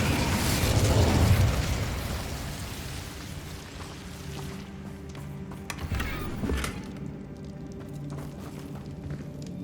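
Incendio fire spell cast in Hogwarts Legacy, a loud whooshing fiery burst that roars and crackles for about two seconds, then fades into quieter crackling with scattered pops and thuds.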